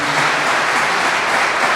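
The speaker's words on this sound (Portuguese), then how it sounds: "Tem que aplaudir a Deus." A church congregation applauds during an evening worship service in São Paulo, with dense, steady clapping from many hands that stays loud and close throughout, with no pauses.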